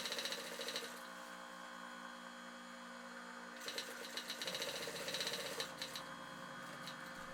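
A sewing machine stitches folding surrey top upholstery material, a steady mechanical whir running through with a brief pause and a few louder bursts, close and continuous.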